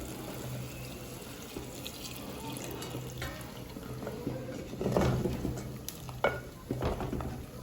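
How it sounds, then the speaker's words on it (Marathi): Water pours and sizzles into a clay pot of cooking mutton, with a steady bubbling hiss and a few sharper splashes and clinks midway. "तर आता आपण याच्यामध्ये हे पाणी घालून घेऊयात"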